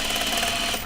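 A sewing machine runs a single-needle seam with green thread while sewing overalls, a fast continuous mechanical whir that stays loud and steady before easing off at the end, with no voices.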